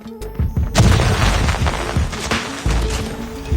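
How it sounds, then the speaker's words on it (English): A Predator missile strike in COD Mobile lands with heavy booming impacts, a deep rumbling blast followed by further thuds and crashes, loud and close, with game sounds around it. "Predator missile inbound"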